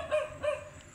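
A hunting dog gives two short barks close by, then a brief fainter yip, over steady low background noise.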